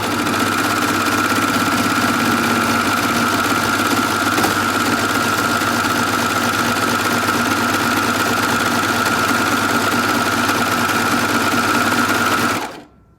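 A Babylock Acclaim overlocker runs steadily while stitching fleece, giving a loud, even mechanical whir for about twelve seconds before stopping abruptly.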